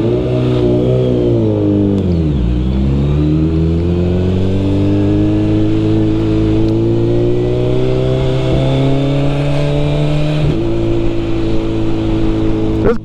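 A 2022 Suzuki Hayabusa motorcycle accelerating: a loud, close engine note that dips, then climbs steadily in pitch through several gear changes, with no talk.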